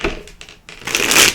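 A deck of tarot cards is shuffled up close in a short burst of crisp riffling and slapping, ending in a denser flurry, with no talk.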